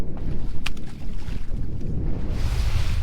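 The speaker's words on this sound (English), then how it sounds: "So, as expected, wind is picking up quite a bit." Wind picks up over rough sea aboard a fishing boat in 20-knot northeast conditions, a steady loud buffeting rush against the microphone with low rumbling water and hull noise throughout.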